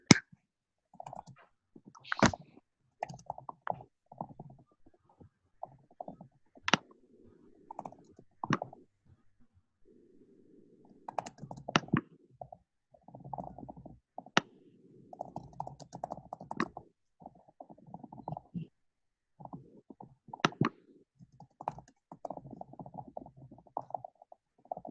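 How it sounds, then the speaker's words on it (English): Irregular bursts of keystrokes on a computer keyboard, close and fairly quiet, tapping in uneven clusters with short pauses and no voices. "Just don't mind me, I'm typing."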